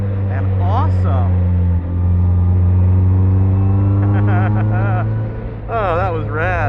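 A rear-wheel drive Ford Fusion drifting at a Southwest motorsports event, its engine droning loud and steady with rising and falling revs, the rumble close and continuous throughout.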